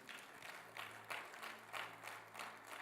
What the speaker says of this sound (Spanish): le da un fuerte aplauso al Señor